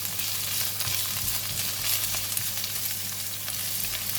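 Kailan stems stir-frying in a pan for a simple beef stir fry, a steady bright sizzle with light scraping and stirring throughout, close and moderately loud with no talking.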